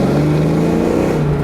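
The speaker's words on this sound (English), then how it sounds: "I mean, that classic old school V8 sound that everyone loves." A 1992 Ford Mustang GT V8 fitted with aftermarket headers, exhaust and intake revs loudly and close by, a steady deep burbling drone that holds for a brief moment with no talking.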